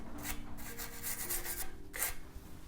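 Brief rhythmic bristle-brush scrubbing strokes on a car's front suspension part, in dry repeated bursts close to the mic with a steady background hum.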